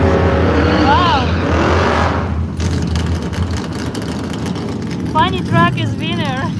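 A 1951 Ford F100 funny truck racing at Firebird Raceway in Boise, Idaho, its engine a loud roar that cuts off abruptly partway through, followed by crowd noise and distant announcer speech.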